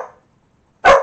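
A single loud, close dog bark ends the clip after a short trailing sound and near silence, heard during a home coloring session.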